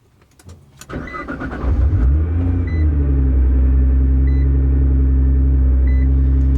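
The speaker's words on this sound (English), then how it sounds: "First, let's start up the car." A Nissan R35 GT-R cranks briefly after a few clicks, then fires and settles into a loud, steady, deep idle that drones on without a break.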